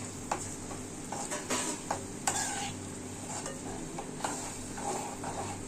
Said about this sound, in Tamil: இப்படியே இது ஹையில் வச்சு கொஞ்சம் கொதிக்க விடுங்க.